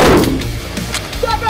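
Handgun fire at a firearms training range, a loud booming shot at the start that decays into a reverberant tail, with a fainter second report and a brief voice later on.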